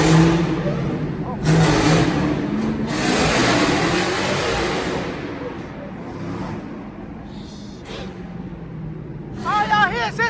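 A Jeep Trackhawk engine revs and roars nearby during a 1 AM street outing with two Trackhawks, the loud surges rising and falling while people talk throughout.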